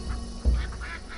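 Ducks quack outdoors among poultry in a food forest, a couple of brief nasal calls over a low rumbling background, fairly near.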